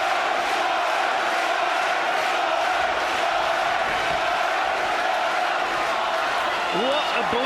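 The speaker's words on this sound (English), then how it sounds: "Jono, Jono is the chant of the Norwich crowd" Norwich boxing crowd at a Jon Thaxton European title fight, a dense steady roar of many voices filling the hall throughout, with no clear rhythmic chant standing out and a few rising shouts near the end.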